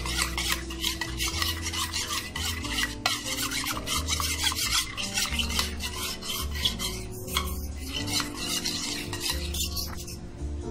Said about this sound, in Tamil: இந்த மாதிரி கட்டி இல்லாமல் நல்லா கரைச்சி விட்டுக்கோங்க.